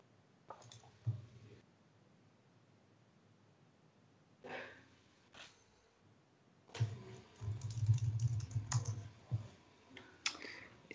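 Someone types an ipconfig command into a Windows 10 command prompt on a computer keyboard, producing quiet, close bursts of rapid key clicks separated by pauses, with the densest run of typing near the end.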